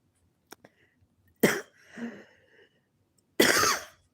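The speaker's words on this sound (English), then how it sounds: "The cough" Two sharp, loud coughs about two seconds apart, each a harsh broadband burst, with faint clicks and a softer breathy sound between them.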